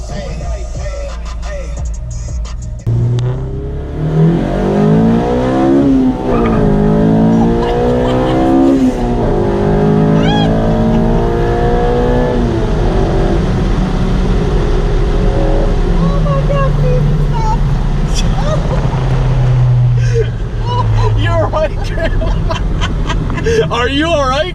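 A 200hp Honda Civic engine revs hard and climbs through the gears, rising pitch sweeping up repeatedly, loud and close, with people talking and laughing over it.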